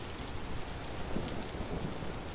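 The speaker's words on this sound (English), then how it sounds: "I believe I just heard some thunder in real life." Low rumbling thunder rolls beneath steady rain during an approaching storm outdoors, a dense continuous wash of rainfall with a faint deeper swell in the middle, no voices present.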